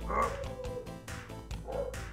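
A dog barks right outside a door, giving several deep woofs in an uneven rhythm, fairly close and moderately loud, with a higher tonal yelp mixed in.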